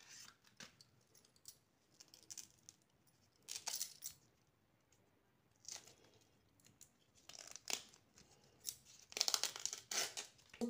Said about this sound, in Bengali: তো আমি হালকা হালকা করে দেখো বুটিতে আমি ছুলে নেব।